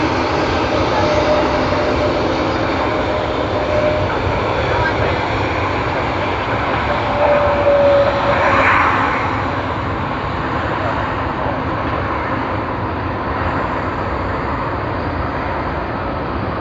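An Airbus A220 airliner passes at Sydney Airport with a loud, continuous engine roar that swells slightly midway and stays steady, heard from fairly close.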